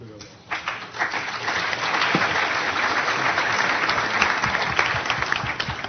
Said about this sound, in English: since you've applauded for me